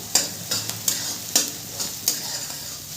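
Chopped green chillies frying with mustard greens in a pan, stirred with a utensil: a steady sizzle underneath with about seven sharp scraping strokes at an irregular rhythm, close and clear.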